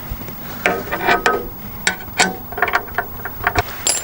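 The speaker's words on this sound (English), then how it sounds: "The size that I'm using here is 13 millimeter gear wrench." A 13 mm ratcheting gear wrench turns the tilt nuts on an RV satellite internet dish mount, giving irregular bursts of quick metallic ratchet clicks close up, with short pauses between strokes.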